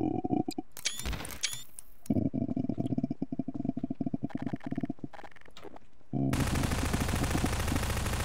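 Rapid bursts of automatic gunfire in Garry's Mod, sharp crackling volleys repeating in dense clusters across the clip, with a steady whirring mechanical drone and a harsher noisy stretch at the end.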